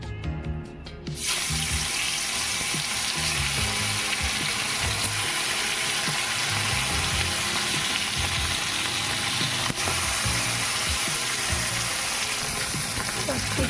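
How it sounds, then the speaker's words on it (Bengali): Bhola fish frying in hot oil in a wok: a steady, loud, broadband sizzle that starts abruptly after a second and continues unbroken throughout, with faint scraping and stirring underneath. "এখন আমি মাছটাকে হালকা ভেজে নেব"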